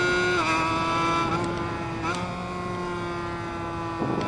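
A 250cc two-stroke racing motorcycle engine in the RIDE 5 racing game screams at high revs at Kyalami, loud and steady, with brief dips and pitch shifts as gears change.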